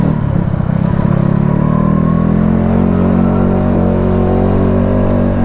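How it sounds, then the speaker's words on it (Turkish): A motorcycle engine revs hard at full throttle, a loud, close, continuous roar that climbs in pitch, with slight clatter and no voices. "şimdi çıkalım bir gazlayalım bakalım ne diyecek"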